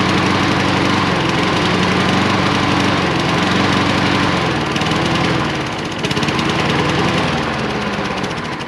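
A small engine runs loud and steady at close range while it is fogged with fogging oil, its rough drone wavering slightly and dipping briefly before picking back up.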